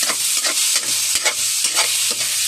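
Cooked rice is sautéed in a hot pan, giving a steady loud sizzle broken by repeated scraping strokes from stirring, heard alone without speech.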